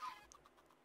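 Chickens in a Minecraft-style video game give a few short, quiet clucks in quick succession, heard alone without speech.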